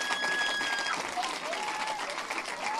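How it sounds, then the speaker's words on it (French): Congregation in a church applauding, a dense burst of many hands clapping close by, with a voice speaking over the clapping. "on acclame le Seigneur pour sa puissance"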